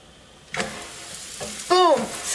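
A vegan pancake sizzling and being flipped in a frying pan, a soft scrape and a short burst of frying hiss, close and fairly quiet.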